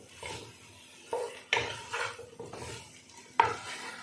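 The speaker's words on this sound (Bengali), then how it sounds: "ভালো করে নাড়িয়ে আমি আবার ঢাকা দিয়ে দেবো" A spoon stirs a covered pot of Bengali fish curry, giving intermittent scraping strokes and sharp metallic clinks against the pan over a faint sizzle, close and fairly soft.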